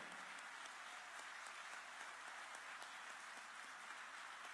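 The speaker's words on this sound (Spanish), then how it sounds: "no te devuelvo, Peti, el aplauso" Audience applause at a municipal council session opening in 2024, a steady dense wash of clapping held at even loudness throughout, with no voices over it.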